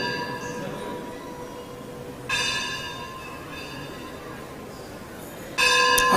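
Temple bells ring out at an ISKCON temple in Vrindavan, a bright metallic clang struck twice a few seconds apart over a low murmur of background hum, each strike leaving a long shimmering ring.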